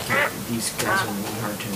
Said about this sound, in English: there's a ducky, a ninja duck